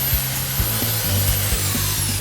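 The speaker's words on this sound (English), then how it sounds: "Now I'm going to sand it all nicely." Wood being sanded for a waney-edge rustic coffee table, with a steady loud rasping power-tool sound and regular rhythmic strokes close up.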